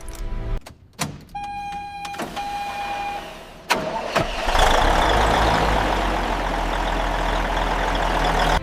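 An old Freightliner FLC120 semi truck engine, silent for 40 years, cranks with a few clicks and strained turns, sputters, then catches and settles into a loud, steady rumbling idle close by.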